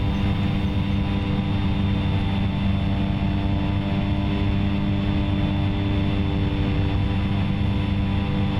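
A simulated airplane in X-Plane 11 gives a steady, loud engine drone with a constant low hum, flying by hand with autopilot off on approach to a runway. No one speaks.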